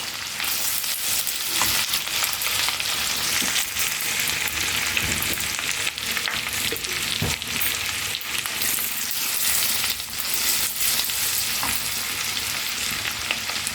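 Green chillies frying in hot oil in a pan, a constant close crackling sizzle with occasional stirring scrapes, no talking.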